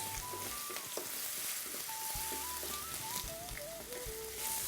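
Curry leaves hit hot oil with ginger in a pan, giving a continuous dense sizzle and crackle up close, with faint tonal sounds running over it.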